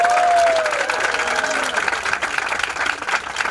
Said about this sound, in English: let's give each other all a round of applause one more time